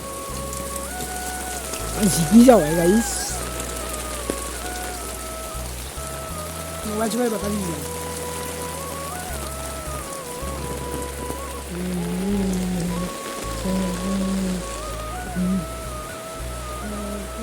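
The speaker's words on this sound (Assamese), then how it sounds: "বৰষুণ দিছে" Heavy rain pours steadily, a dense continuous roar of drops on surfaces, while a person talks over it and a few brief louder bumps stand out early on.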